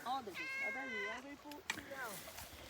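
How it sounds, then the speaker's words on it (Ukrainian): A cat meows up close on a family mushroom-picking walk in the Carpathians, two drawn-out, rising and falling cries with a short break between them, clear and fairly loud over quiet outdoor background. "Ще й мурчики з нами сьогодні."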